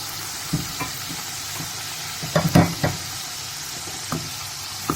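Chicken liver and gizzards frying in a pan, with a steady soft sizzle under scattered stirring scrapes and clinks, one cluster of louder utensil knocks in the middle.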